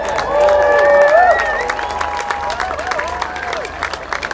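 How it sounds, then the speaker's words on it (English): Beachfront airshow crowd at Eastbourne applauding and cheering an Army parachutist coming in over the beach, sustained clapping and cheers under a public-address announcer's voice that carries on throughout. "Give him a big cheer as he comes over the beach"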